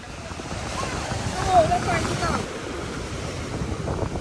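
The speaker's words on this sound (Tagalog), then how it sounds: "Ang lakas ng ano, ang lakas ng alon." Strong ocean waves surge at high tide on a Bohol beach, a broad continuous roar of surf with wind buffeting the microphone, swelling midway and then settling.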